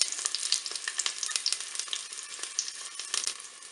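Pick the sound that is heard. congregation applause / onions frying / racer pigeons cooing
onions frying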